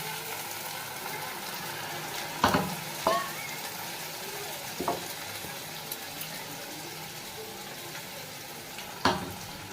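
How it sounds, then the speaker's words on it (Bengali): Poppy seeds added to fried onion in a pan sizzle in a low, steady hiss, broken by a few sharp clinks of a stirring spoon against the pan, with no talk. "পেঁয়াজটা ভাজা হয়ে গেছে। এবার আমি এর মধ্যে পোস্তটা দিয়ে দিলাম।"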